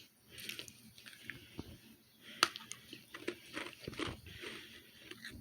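Close, quiet biting and crunchy chewing of a dry toffee cookie, with irregular crisp snaps and steady mastication over several seconds, no talking.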